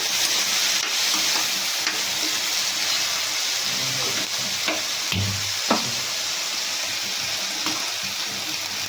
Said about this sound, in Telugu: శనగలు వేసేసుకొని మంచిగా ఇలా కలిపేస్తున్నాము ఫుల్గా పెట్టేసుకొని ఇలా కొద్దిగా ఫ్రై చేయాలన్నమాట రెండు నిమిషాలు